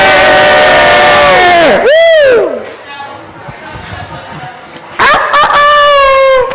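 A crowd of people imitate a rooster crowing together at a bar gathering, loud overlapping cock-a-doodle-doo calls that rise and fall, pause briefly, then burst out again with cheering voices.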